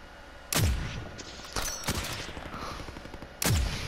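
Sniper rifle shots in the video game Warzone, with two sharp, loud booming reports about three seconds apart and a softer crack in between, over a steady game background hum.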